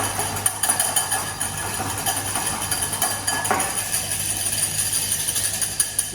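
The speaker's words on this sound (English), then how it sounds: "we're just going to whisk it up, just with a hand whisk" A hand whisk beats a mixture in a bowl during a cookery class, giving a steady run of quick metallic clinks and scrapes against the bowl over a faint constant background hum, with no talking.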